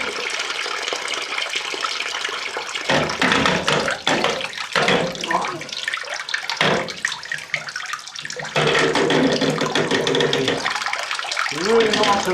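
Water drains from an Indesit washing machine showing fault code F05, gushing and splashing steadily into a bowl, surging in loud bursts with brief pauses, the pour growing fuller and heavier toward the end.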